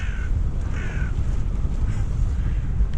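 A crow perched atop a sailboat's mast gives two harsh caws early on, heard over steady wind and water noise with no talking.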